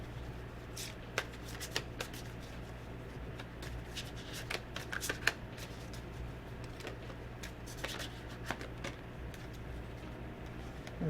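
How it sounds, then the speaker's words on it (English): Tarot cards being shuffled and drawn from the deck, a steady close papery riffling with brief louder flicks and snaps as cards are pulled, no talking. "Let me pull out another couple. Okay. A couple of cards here."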